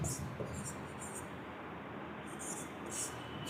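Marker or chalk scratching words onto a board in short faint strokes, a few soft bursts separated by pauses, close by and quiet over a low room hum.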